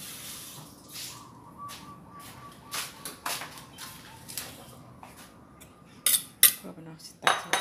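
Utensil clinking against a bowl while Thai-style pounded frog chili dip is scooped out, a series of sharp metallic taps and scrapes spaced irregularly, louder clatters near the end, over a faint background hum with no talking.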